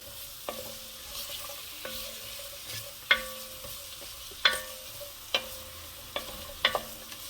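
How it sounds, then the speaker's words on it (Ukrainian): Carrots, onions and garlic sizzle steadily in a pan, broken by repeated sharp clinks of a utensil stirring and scraping at irregular intervals. "морква і цибуля з часником підсмажилися, додаємо води"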